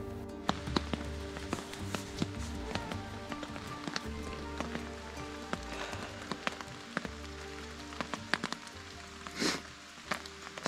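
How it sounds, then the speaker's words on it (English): Rain falls on a tent during a solo canoe trip in Algonquin Park, a soft steady patter broken by scattered sharp, close drips tapping the fabric. "Still raining."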